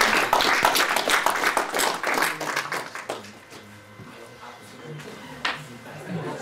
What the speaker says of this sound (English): Can we have a final round of applause for more or less everybody?